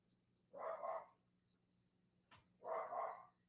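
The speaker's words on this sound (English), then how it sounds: "You might hear my dog barking in the background." A dog barks twice in the background of a home during a livestream, two short muffled bursts about two seconds apart, fairly faint and distant.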